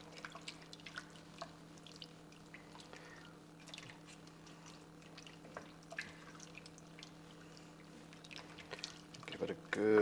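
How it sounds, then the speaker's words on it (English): Beef stock, about a pint or half a litre, is poured into a beef casserole in a kitchen, giving soft scattered drips and trickles over a steady low hum, with a louder splash swelling at the very end. "Now we're going to add in the stock."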